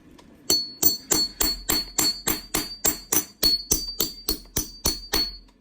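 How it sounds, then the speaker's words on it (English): Steady metallic strikes of a regular hammer knocking a punch through a 2010 Hot Springs quarter coin, about fourteen sharp blows in an even rhythm, close and loud with a ringing edge. "I just use a regular old hammer to knock it through"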